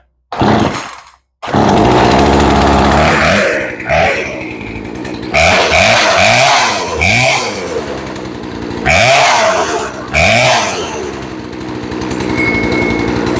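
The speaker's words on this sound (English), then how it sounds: "You've tuned your chainsaw" A chainsaw engine with a newly replaced, freshly tuned carburetor starts with a sputter, then idles and revs up repeatedly in short bursts, loud and close, with no talking.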